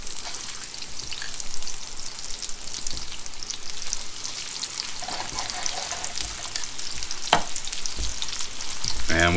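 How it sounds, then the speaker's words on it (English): Food frying in oil in a pan crackles and sizzles steadily, close and fairly loud, with occasional stirring clatter and a sharp tap near the end; no one speaks. "And we just fry the rest of them this way"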